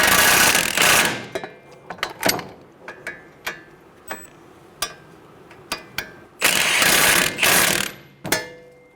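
A ratchet wrench snugging down the knuckle-to-strut nuts on a 2011-2014 Hyundai Sonata, close and loud: quick bursts of rapid clicking at the start and end, with single sharp ratchet clicks spaced out in between.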